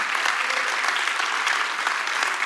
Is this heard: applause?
yes